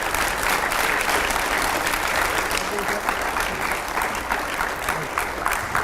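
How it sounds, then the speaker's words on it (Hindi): Loud, dense applause fills a hall as an audience welcomes Nitin Gadkari, a steady roar of many hands clapping throughout without letting up. "नितिन गडकरी जी का जोरदार तालियों से स्वागत करिए"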